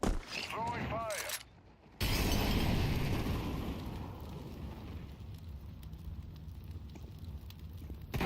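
Fire grenade thrown in Counter-Strike 2, a short burst of whooshing tones followed by a loud sudden roaring burn that fades to a steady crackling hiss; a voice talks early on.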